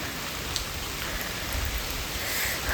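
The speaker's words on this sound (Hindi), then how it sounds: "पर इतनी बारिश हो रही है ना" Heavy rain pouring steadily onto surfaces outdoors, a dense, continuous hiss with scattered nearby drips, nobody talking.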